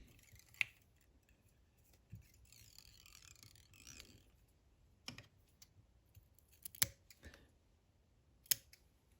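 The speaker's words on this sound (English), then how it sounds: "I'm going to come in here and cut most of that feather off" Scissors snip most of a feather off a fly hook during tying of a Lunchbox Hopper, giving a few sharp, quiet clicks spaced out over a near-silent bench.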